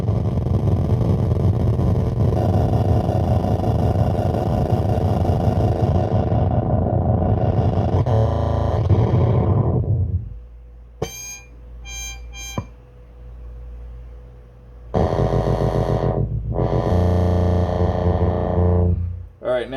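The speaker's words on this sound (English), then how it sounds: "This is a very scoop sounding filter. And its subharmonics generator." Synthesizer sound run through a scooped filter and a subharmonics generator: dense, loud distorted tones sustained for about ten seconds, then sparse plucked notes, then a second thick burst near the end.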